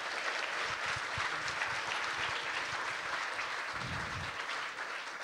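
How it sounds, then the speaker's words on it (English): Steady, dense applause from an audience at a hackathon award ceremony, sustained and fairly loud throughout with no pause. "Let's get another round of applause for all those incredible projects."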